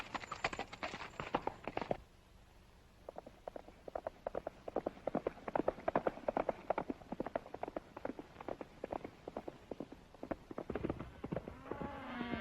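Horse hooves clip-clop in a steady rapid rhythm on open ground in a 1937 Western, moderately close, briefly pausing and then resuming; a voice is faintly heard near the end.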